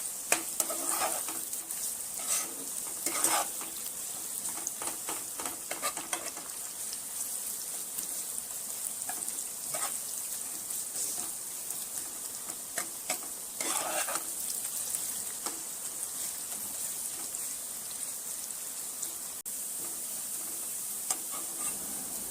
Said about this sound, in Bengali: পেঁয়াজটা ভাজা ভাজা হয়ে গেছে কমপ্লিটলি